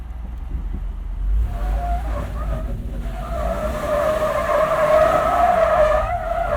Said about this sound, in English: Try to minimize wheel spin now.